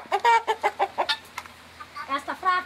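Chickens cluck near a nest on a rural farm. A rapid series of close, throaty clucks comes first, then a pause, then another burst of clucking, with faint low background noise throughout.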